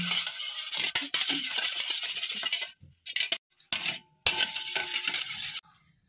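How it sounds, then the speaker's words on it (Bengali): An egg is beaten briskly in a bowl with a utensil for a palm fruit cake, giving close, rapid clinking and scraping in bursts with brief pauses between them. "এই ডিমটাকে একটু ভালো করে ফেটিয়ে নেব।"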